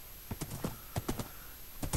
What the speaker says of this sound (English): Some black horses.